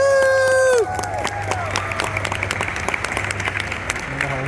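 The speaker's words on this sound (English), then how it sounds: "Another round of applause for Tina!" Crowd applause and whoops for Tina Ivlev at a Star Wars Jedi game Q&A panel at Ocala Comic Con, steady clapping filling the room, with a sung or whistled tone at the start and murmuring talk beneath.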